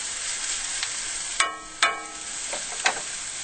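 Flour cooking in a pan to make a roux, giving a quiet steady sizzle with a few sharp scraping or stirring clicks.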